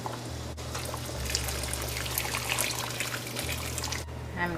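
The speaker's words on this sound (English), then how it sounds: "And I will have to add more boiling water." Boiling water pours steadily into a pot of curry with potatoes, a close continuous splashing trickle lasting a few seconds.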